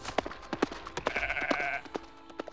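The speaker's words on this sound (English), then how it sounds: "Today we'll shear Doghill's sheep." Sheep bleating on shearing day, one drawn-out nearby bleat rising over a background of scattered clicks and knocks, followed by further soft thumps.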